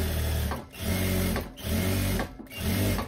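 A sewing machine runs in quick bursts to stitch a reinforcing second seam on a satin-bias-bound pocket of a teddy coat, its rapid needle chatter loud and close with brief pauses between runs.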